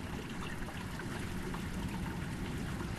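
Waterfall sound effect from a sound effects collection: a dense, continuous rushing of falling water, steady and full without pauses, with no voices.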